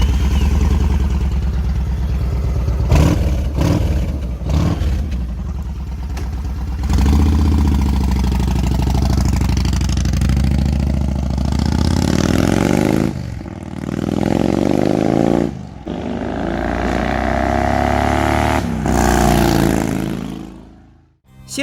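A Yamaha XV1900 Raider with an air-cooled 1854 cc V-twin runs close by, a deep throbbing idle broken by several sharp throttle blips and revs that rise and fall.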